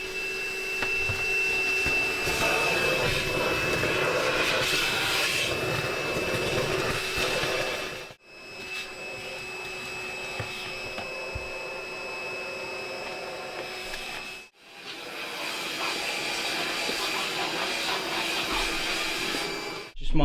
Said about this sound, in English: I'm gonna vacuum this